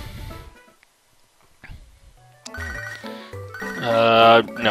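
A phone rings in the Pokemon Soul Silver video game, a bright chiming ringtone that builds and grows loud over background game music.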